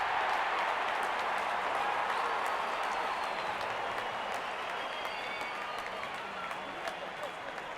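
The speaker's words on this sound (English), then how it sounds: "Openers walking in and the crowd cheering in anticipation." Stadium crowd in a cricket video game cheers and applauds steadily as the openers walk out, a dense continuous roar of clapping that stays loud throughout.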